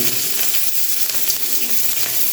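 Chopped onion hits hot oil in a pan while an egg and vegetable curry is being made, giving a steady, close, dense sizzle that holds at an even level throughout with no pauses.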